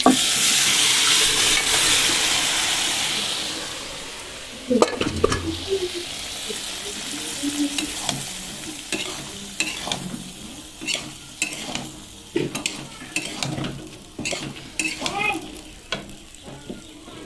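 Boiled peas are poured into a hot pan, and a loud wash of hissing gives way to intermittent scraping, clinking and stirring sounds against the metal, with a little background voice.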